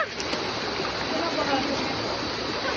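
Steady broadband rush of a flowing river, one of several crossed along a rural trail at Sitio Latag, continuous and fairly close with faint voices underneath.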